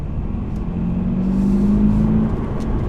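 Brand-new 2022 Subaru BRZ Sport-Tech with a manual gearbox running from inside the cabin, giving a low, steady engine drone with a slight rising hum midway, quiet and even, with no voices.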